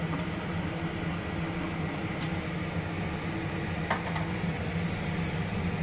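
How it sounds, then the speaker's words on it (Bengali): Chopped onion is frying in hot oil for chicken hariyali. It makes a soft, even, continuous sizzle, with a faint clink now and then and no voices. "তো আমার তেলটা গরম হয়ে এসছে, তো আমি পেঁয়াজ যেটুকু কুচি ছিল সেটা আমি তেলের মধ্যে এখন ঢেলে দিচ্ছি।"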